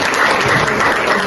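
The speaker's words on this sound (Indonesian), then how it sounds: "Beri tepuk tangan dulu untuk seluruh." Audience applause at a community gathering in Kelurahan Ketilang, a brief burst of dense, even clapping from a crowd, fairly loud and close, with no talking over it.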